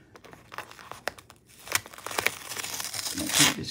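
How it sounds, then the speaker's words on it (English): Masking tape peels off freshly painted baseboard trim with crinkling, tearing rips, first scattered and quiet, then a louder, longer tear close by. "We're just taking this tape off, right? Peeling it back. Peeling back the tape."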